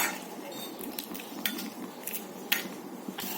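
Whole spices such as fennel dry roasting in a pan over a medium gas flame, with a steady soft rustle and scattered metallic clinks and scrapes of a spoon against the pan.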